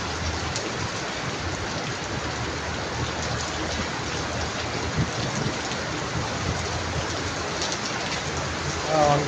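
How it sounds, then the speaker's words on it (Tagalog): Steady downpour of heavy rain hissing loudly throughout, with a brief faint knock near the end. "Sobrang lakas ng ulan."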